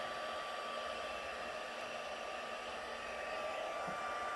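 Heat tool blowing steadily and loudly as it heat-sets embossing powder on glitter paper, a continuous whooshing roar that holds alone without pause.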